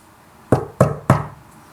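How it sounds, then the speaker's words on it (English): Three firm knocks on a door, evenly spaced and close, each a sharp thud with a short ring-out, alone with no voices. "for no one answered his firm knock"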